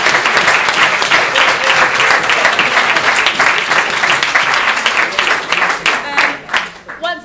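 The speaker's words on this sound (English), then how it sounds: "So a big round of applause for the speakers." Audience applause at a university animal research debate, dense sustained clapping that fills the room for several seconds before thinning out at the end.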